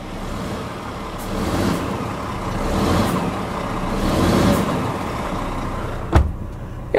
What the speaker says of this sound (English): your straight 6-cylinder diesel engine on the G450 XT